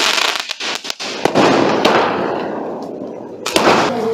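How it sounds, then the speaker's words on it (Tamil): Diwali firecrackers go off nearby, loud and sharp: a few separate bangs, then a dense, sustained crackling burst and a final cluster of pops. "ஒவ்வொரு ஷாட்டும் பிசிறு தட்டாமல் பக்காவாக வெடிக்குது"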